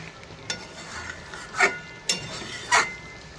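Chicken cooks slowly in a pan over low heat with a soft, steady sizzle, broken by a few brief scraping stirs of a spoon against the pan.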